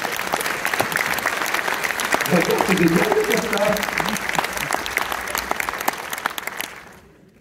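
An audience at a French theatre preview in Orléans applauds a member of the touring show's press team, steady clapping filling the room and fading out near the end, with a voice talking over it.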